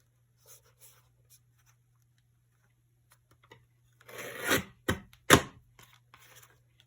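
An inexpensive paper cutter is slapped down to slice paper: one rasping swipe builds up, then two sharp, close slaps follow, with a few faint taps before it and a steady low hum underneath throughout.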